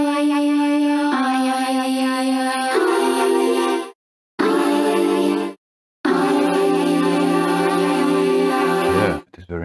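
A vocal sample library instrument in Kontakt plays sustained sung tones, changing pitch in held notes with brief silent gaps between phrases, loud and alone without talk.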